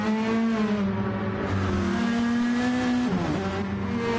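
Race car engine in the Gran Turismo 7 video game during a multiclass race at Eigernordwand, a loud, close, sustained high-pitched whine that holds steady, dips briefly as the driver shifts, then climbs again.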